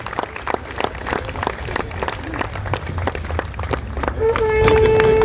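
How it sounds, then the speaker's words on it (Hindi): Audience clapping at a Diwali music evening held at a gymkhana, scattered and irregular claps close by, with a swelling crowd noise and a sustained tone rising at the end. "कृपया हम सभी जोरदार तालियां बजाकर AK जी का सम्मान करेंगे।"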